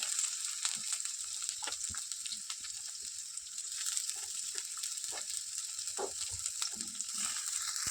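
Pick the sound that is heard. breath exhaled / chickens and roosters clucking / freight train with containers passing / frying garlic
frying garlic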